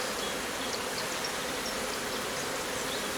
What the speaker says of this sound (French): ça c'est un essaim que j'avais attrapé